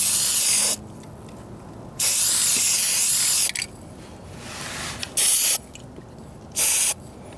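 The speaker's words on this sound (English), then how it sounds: "Second coat going on pretty wet" Spray gun laying a wet second coat of red paint onto a patched driver-side floor pan of a Ford Ranger, in several loud hissing bursts of about a second each with quiet gaps between.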